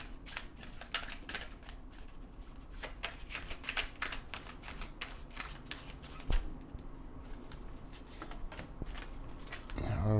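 A deck of oracle cards is shuffled by hand at close range, with quick riffling flicks and soft card slaps in bursts over about ten seconds and a brief louder knock near the end.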